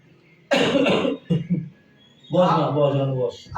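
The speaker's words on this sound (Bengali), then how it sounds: "কুলকুল করে তো কাশছো তুমি" A person coughs in a few harsh, close bursts with short pauses between them, sounding throaty and rough.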